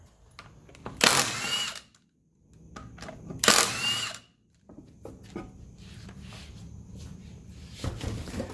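A power tool drives refinished lug bolts into a wheel of a 1982 Mercedes 300SD in two loud, short bursts about two seconds apart, followed by quieter clanks and handling noises nearby.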